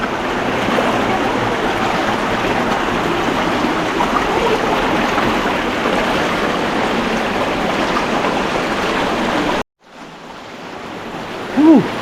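Dao Falls waterfall in Samboan, south Cebu, roars as a loud, steady broadband rush of falling water for about ten seconds, then cuts off abruptly to a quieter, near-silent outdoor background.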